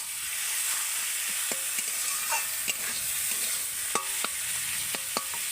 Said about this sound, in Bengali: পেঁয়াজগুলো ভাজা হয়ে গেছে এবার আমি ওর মধ্যে দিয়ে দেব আলু আর গাজর সেদ্ধ করে রাখা আলু আর গ্রেট করে রাখা গাজরটা দিয়ে আমি ভালো করে কিন্তু একটু এইভাবে নেড়ে চেড়ে ভাজা ভাজা করে নেব